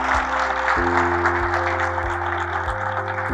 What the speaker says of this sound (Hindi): आप सब लोगों के लिए एक बार जोरदार तालियां हो जाए